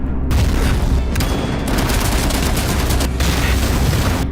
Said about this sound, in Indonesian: Dan tentara militer menembak dan membuat mereka semua menjadi kesulitan.